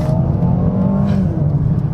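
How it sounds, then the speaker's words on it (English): A 2021 Mercedes-AMG A35 in normal drive mode accelerates hard, its engine note rising steadily in pitch, loud and close with a gruff, noisy growl and no talking over it. "Now, let's do a little bit of acceleration."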